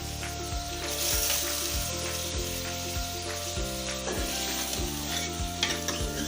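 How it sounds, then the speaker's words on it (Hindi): Chicken fries in a pan with ginger garlic paste and browned onions for a restaurant-style biryani. Steady close sizzling runs throughout, with rhythmic stirring scrapes. "अब हम इसके अंदर डाल देंगे चिकन।"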